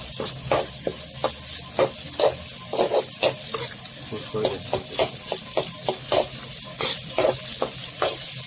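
Potatoes fry in a hot pan while being stirred, a constant sizzle broken by rapid rhythmic scrapes of a spatula against the pan, close and fairly loud.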